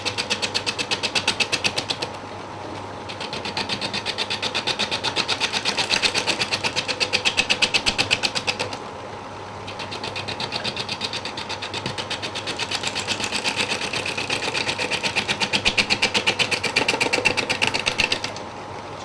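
A wood lathe turns a burl, giving a close, loud, rapid rhythmic whirring with regular pulsing knocks, briefly dropping in level twice before resuming as the speed is gradually raised.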